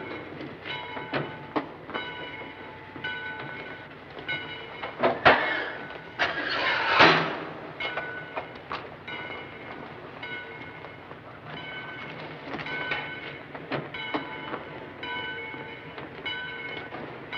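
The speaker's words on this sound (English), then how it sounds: "Get in the train, Kelly." A train departing in a 1949 comedy film: steady rolling rumble and rhythmic clickety-clack of rail cars, with two louder bursts of hissing or steam about a third of the way in, continuing at moderate loudness throughout.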